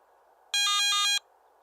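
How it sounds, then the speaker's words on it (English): Low battery alarm of a Garrett ATX metal detector: a single brief, loud electronic beep pattern of about half a second, pulsing in three quick bursts against a quiet background. "In addition to the flashing LED, a brief audio alarm will sound every 60 seconds."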